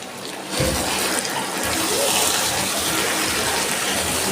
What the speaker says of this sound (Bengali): চিকেনটা সিদ্ধ করে যে জলটা বেরিয়েছে তো জলটা আমি এখন দিয়ে দিচ্ছি এর মধ্যে